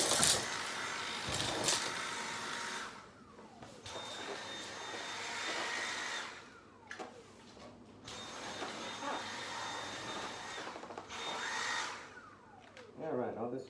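A vacuum cleaner runs steadily as a loud, close, broadband whoosh, interrupted by several brief dips and surges as it is moved or bumps against things, with occasional faint talk underneath.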